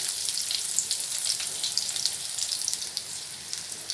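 Ten finely chopped small shallots fry in hot oil with mustard seeds and chillies, making a close, steady crackling sizzle with no talk.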